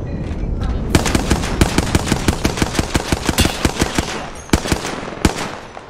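Rapid automatic weapon fire in the shooter game Apex Legends: a long sustained burst of loud close shots in quick regular rhythm, then a few isolated shots trailing off.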